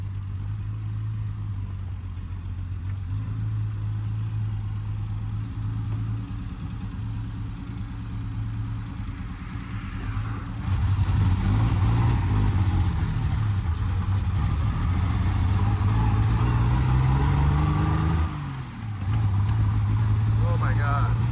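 A 1970 Triumph TR6 engine running roughly on its carburettors gives a steady low idle that swells louder partway through, with a brief revving dip near the end and people talking over it.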